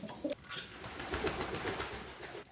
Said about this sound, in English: Flying pigeon.